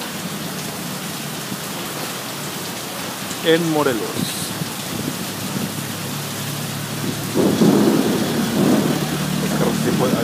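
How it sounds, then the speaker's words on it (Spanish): Steady heavy rain hissing throughout in Morelos, Mexico, with a brief voice speaking partway through and a low rumble underneath. "por fin llegó la lluvia"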